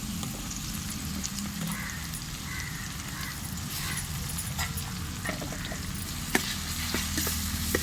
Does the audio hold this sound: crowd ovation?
no